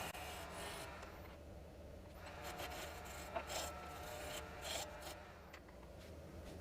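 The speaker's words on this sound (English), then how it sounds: "I also burnish the leg itself." A turned wooden stool leg spins on a lathe while being burnished, giving a faint, continuous rubbing rasp with slight swells, quiet and steady, with no voices.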